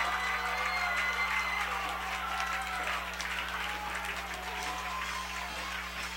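A high school varsity football crowd on its feet cheers and applauds steadily from the stands, a broad, continuous roar with a low hum underneath.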